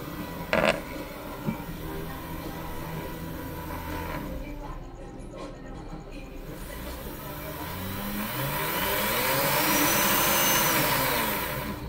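A Dremel rotary tool on a mains speed controller whines steadily, with a couple of clunks early on, then its motor pitch rises and falls as the speed is adjusted; close and fairly loud, no talk.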